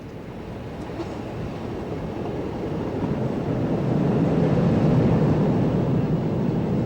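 A southbound freight train of powder hoppers on a Portuguese main line drifts past behind an Alstom locomotive, a broad rumbling roar that builds steadily louder and stays close, with no talk.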